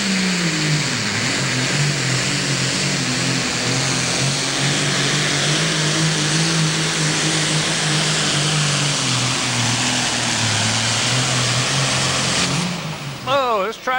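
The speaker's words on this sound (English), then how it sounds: "they're put a Super Farm engine in it" A Super Farm class pulling tractor roars loud and steady at full power during a pull at the NTPA Grand Nationals in Brandenburg, Kentucky, then cuts off abruptly near the end as it comes to a stop.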